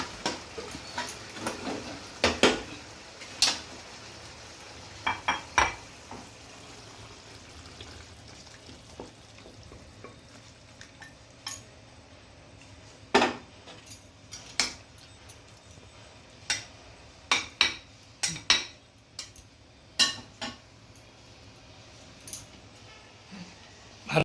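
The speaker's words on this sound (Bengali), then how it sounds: "এখন আমি এটা বাউলে ঢেলে দিচ্ছি।" Cooked paneer and mushroom, finished with a little ghee, scraped from a pan into a bowl: a string of sharp metallic clinks and scrapes of a spoon against cookware over a faint background hiss, with irregular spacing.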